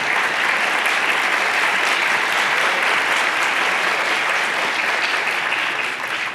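Steady, dense applause from a large audience at an astronaut talk, sustained at full strength for several seconds before tapering off slightly at the end.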